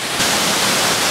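A waterfall pouring from its top into a deep plunge pool, a dense, steady roar of rushing water that swells slightly after a moment and carries on unbroken.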